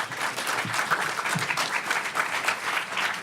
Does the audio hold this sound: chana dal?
no